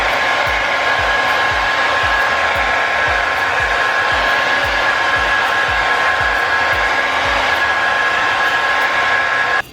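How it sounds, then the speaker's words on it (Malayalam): A blow hair dryer runs on its cool setting while a man's undercut quiff is styled, giving a loud, steady, unbroken airy whoosh with a constant motor whine for the whole stretch and no talking. "അപ്പോൾ നമ്മുടെ ബ്ലോ ഹെയർ ഡ്രയറിലെ കൂൾ മോഡ് ഉണ്ട്"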